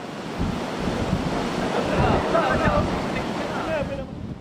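Strong wind and heavy rain during a storm in Pasay City, a steady loud rushing roar with gusty buffeting that swells slightly midway and eases near the end.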